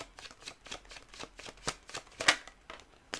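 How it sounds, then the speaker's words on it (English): Tarot cards riffle and slap in a quick, uneven rhythm of short papery bursts, close and fairly soft. "this shuffling is very clunky."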